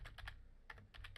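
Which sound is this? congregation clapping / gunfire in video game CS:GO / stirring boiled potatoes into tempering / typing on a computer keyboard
typing on a computer keyboard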